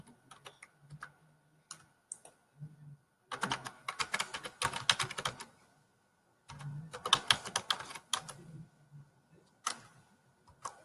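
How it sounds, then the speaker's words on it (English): Typing on a computer keyboard while entering list text into a PowerPoint 2019 slide, heard as quick bursts of close clicking keystrokes separated by pauses, with no talking. "I'm going to type here"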